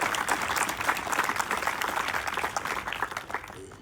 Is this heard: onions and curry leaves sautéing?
no